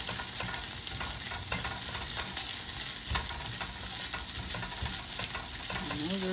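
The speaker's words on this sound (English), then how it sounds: "And then I kind of just give it another little stir." Cheesy scrambled eggs are stirred in a HexClad pan, a close, steady sizzle of frying with soft scraping strokes of the utensil throughout, no voices.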